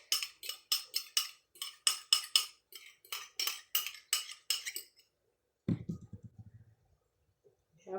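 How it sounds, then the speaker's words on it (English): Utensils scraping and clinking against a dish in a quick rhythm while raw egg and spaghetti are mixed together, close up, followed by a short low thump and a few faint taps. "You have to mix the egg and the spaghetti together"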